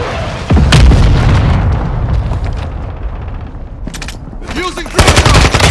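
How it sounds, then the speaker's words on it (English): A stun grenade goes off with a heavy boom in a first-person combat video game, followed by rattling bursts of gunfire and more sharp blasts, all loud and close. "Throwing a stun grenade."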